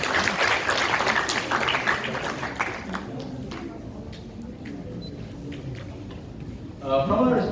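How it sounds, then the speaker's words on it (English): An audience at a university book review competition applauds the jury and guests, with dense clapping that gradually thins out before a voice begins speaking at the end. "Please give a big round of applause for all our jury and guests."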